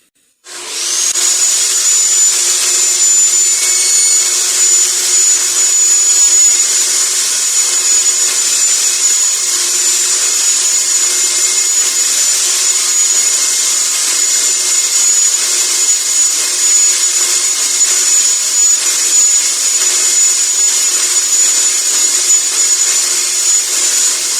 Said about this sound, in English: I'm going to cut a decorative groove with the table saw about 1/4 of an inch from the outside edge of the board